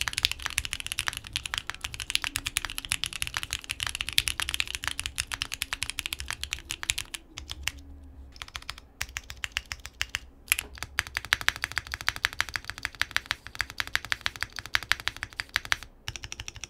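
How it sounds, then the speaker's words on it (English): Steady, rapid clacking of typing on a QK75n mechanical keyboard fitted with case foam, close and alone, with brief pauses between bursts of keystrokes. "This is how I'm currently running the keyboard"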